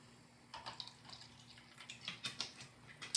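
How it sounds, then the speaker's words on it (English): A splash of apple cider vinegar is poured over a winter fennel and apple salad, giving a very quiet, close trickle with a few soft drips lasting a couple of seconds, with no talking. "I'm just gonna add a splash of apple cider vinegar"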